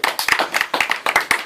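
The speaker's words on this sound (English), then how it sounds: "let's give a round of applause for" A small group claps in short uneven bursts during a community update meeting on fossil fuel divestment, with several sharp claps packed close together for about a second and a half, nearby and fairly loud.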